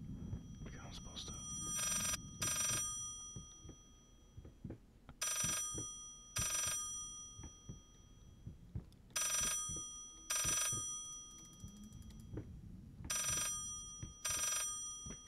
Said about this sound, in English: Can I pick up the phone?